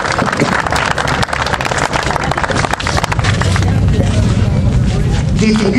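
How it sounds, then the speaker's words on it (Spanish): Loud, dense audience applause at a school alumni association's golden anniversary ceremony, steady clapping throughout with crowd noise mixed in. "Fuerte los aplausos."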